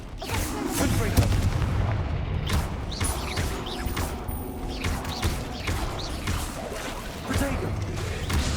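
Blasting spell effects from the video game Hogwarts Legacy, a dense run of booming, crashing impacts over a continuous loud battle mix, with a voice talking over it.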